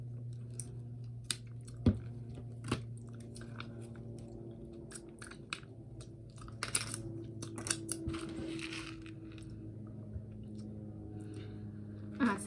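Someone eats a KitKat Colliders dessert up close. Soft, sporadic bites and crunches spread through a quiet stretch over a low steady hum, with a few sharper clicks and no talk.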